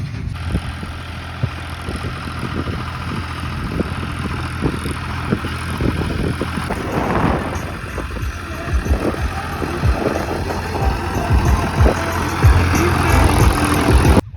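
A heavy tractor engine rumbles steadily at close range, idling and running with a deep, continuous drone that grows slightly louder toward the end.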